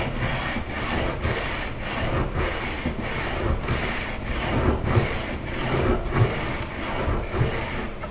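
A scratch stock is pushed along the edge of old mahogany furniture timber to cut a cock bead, giving a steady run of dry scraping strokes, close and moderately loud, with no talk.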